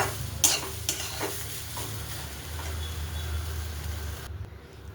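Oil heating in a kadhai for a tempering, with stirring: a steady soft sizzle and hiss punctuated by a few sharp utensil scrapes early on, fading slightly toward the end, with no talking.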